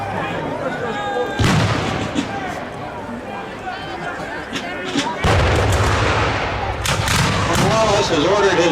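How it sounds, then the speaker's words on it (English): Cannon fire at a reenactment of the Battle of Guilford Courthouse, with heavy booming blasts near the start and middle and later crackling shots, under ongoing narration and crowd noise. "Notice that the cannon was firing into the cavalry."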